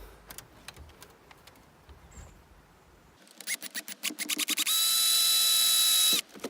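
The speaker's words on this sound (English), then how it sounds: "first I'm going to use a smaller drill bit and drill a pilot hole" A power drill bores a pilot hole through plastic in short bursts of whirring, then runs steadily at a high, loud whine for a couple of seconds before stopping.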